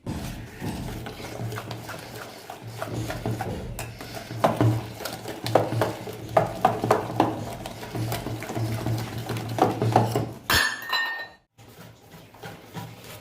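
A whisk or spoon beats batter for begun (aubergine) fritters in a bowl, with fast uneven clinks and scrapes against the bowl over a steady background hum, followed by a brief louder clatter.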